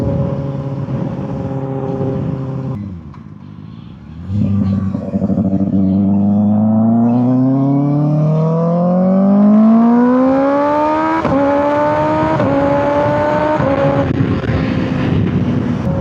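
A 2025 Kawasaki ZX6R motorcycle on a ride, its engine note loud and close, dipping briefly, then climbing steadily through the revs with shifts as it accelerates, with no talking.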